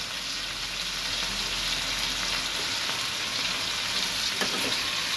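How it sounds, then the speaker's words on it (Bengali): Onion, rice, dal and chicken fry together in a pan with a dense, even sizzle held close, with faint stirring scrapes underneath. "এবার সব একসাথে ভালো করে মিশিয়ে নিয়ে আবার কিছুক্ষণ ভাজবো।"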